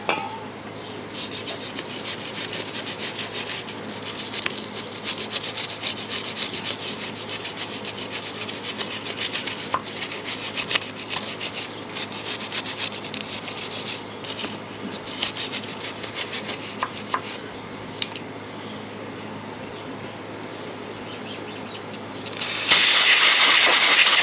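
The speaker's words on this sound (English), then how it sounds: "take a little bit of brake cleaner and just kind of clean all this up before I put it back together" Brake cleaner hisses in a long steady spray over Kawasaki ZX6R motorcycle parts during a stator and rectifier replacement, with rubbing and wiping sounds throughout and a louder burst of spray at the very end.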